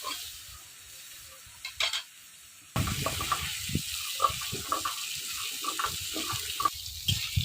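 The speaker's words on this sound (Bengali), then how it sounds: "আলু আর বেগুন একবারে কত সুন্দর একবারে কড়া কড়া করে ভেজে নিচ্ছি" Potatoes and eggplant fry in a pan, a steady sizzle that jumps louder partway through, with intermittent clinks and scrapes of stirring close by and no talking.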